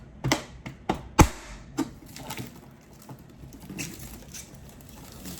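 Brittle plastic wrapping snapped and peeled off a Cricut Mug Press, with a handful of sharp crackling snaps early on, then softer rustling that fades.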